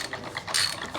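Rapid ratchet-and-pawl clicking from a wrench threading in the right-hand-thread non-drive side of a bicycle bottom bracket on a Lynskey Helix frame, a steady run of close, fairly quiet clicks with a brief louder burst midway.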